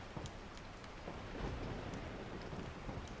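Rain falling in the survival horror video game Resident Evil 4, a soft, steady hiss of downpour with faint scattered drops and low rumbling underneath, no voices.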